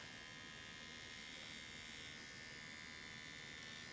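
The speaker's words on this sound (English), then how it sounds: "we're gonna shave upward and stay just below the hair cloth" Electric clippers shaving upward along the back of the neck during a men's undercut haircut, a steady close buzzing hum that runs unbroken and evenly throughout, with no talking.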